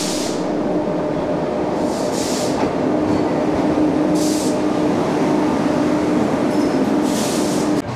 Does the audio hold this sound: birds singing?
no